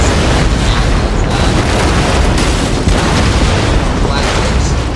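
Ships exploding during an Empire: Total War naval battle between Austria and Russia, a loud, dense roar of booms and cannon fire that fills the whole stretch without pause.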